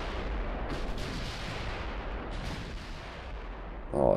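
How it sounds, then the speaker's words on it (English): Battleship main guns firing shells in a 1930s German naval battle in the Ultimate Admiral Dreadnoughts video game, a continuous loud rumbling barrage of booming fire with a sharper close blast at the end. "Thüringen, you look fantastic shooting those shells off."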